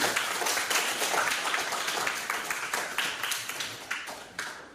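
A classroom of students claps in a dense, brisk burst of applause that is fairly near and gradually tapers off over a few seconds.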